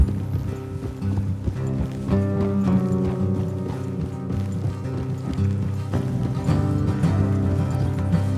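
Horse hooves clip-clop in steady rhythm in Red Dead Redemption 2, several horses ridden along a road, close and fairly loud over a continuous background music bed.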